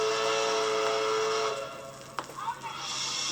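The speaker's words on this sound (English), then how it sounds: "it sounds like the captain of the Swanee is signaling a landing" The steam whistle of the Swanee riverboat gives a long, loud, steady blast over a hissing background, then cuts off, leaving faint hiss and a brief knock.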